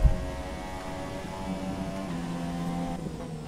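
A race car engine drones steadily at high revs on the Malaysia Grand Prix track in an F1 video game, running on medium-compound tyres, loud and close with no talk.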